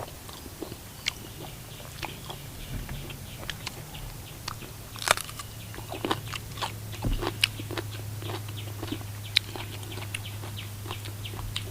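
Someone bites and chews fresh raw shrimp dipped in sauce outdoors in the morning, sharp crunchy crackles arriving irregularly at close range over a quiet low hum, with no talking.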